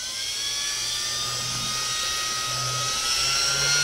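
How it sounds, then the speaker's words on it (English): Power drill spinning a bait caster spool to wind Dacron backing line, giving a steady, even high-pitched whine that holds throughout. "I'm just gonna take my drill"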